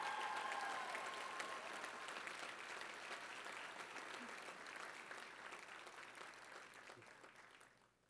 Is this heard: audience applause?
yes